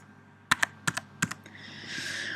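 Close keyboard typing: a handful of crisp key taps in quick pairs, entering numbers into boxes in InDesign, followed by a soft rising hiss of background noise.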